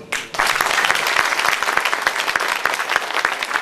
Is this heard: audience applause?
yes